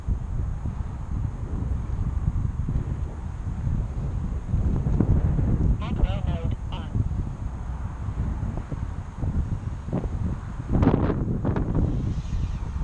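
Strong outdoor wind buffets the microphone in a low continuous rumble during a drone test flight, with brief faint higher sounds partway through and no talking.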